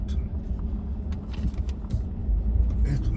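A low-riding car rolls down off a curb, a steady close engine and road rumble inside the cabin with a few light knocks and thumps from the suspension.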